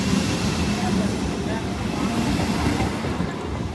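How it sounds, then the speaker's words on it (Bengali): A train arrives at a station with a steady, heavy rumble of wheels and cars rolling past, loud and continuous throughout. "ট্রেন চলে এসছে"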